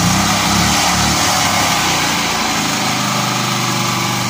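A gas generator, just fixed after a starting problem and cylinder head repair, runs at full throttle with a steady, high-pitched engine whine heard up close and alone.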